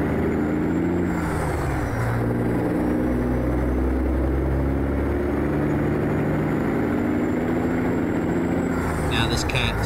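A Cat 6NZ diesel engine idles steadily in a truck in American Truck Simulator, a loud continuous low rumble throughout, with a brief hiss like an air brake near the end.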